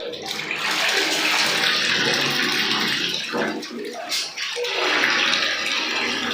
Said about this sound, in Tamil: அப்பா எவ்வளவு ஜில்லுன்னு இருக்குது தண்ணி சரி நல்லா குளிச்சுக்கலாம்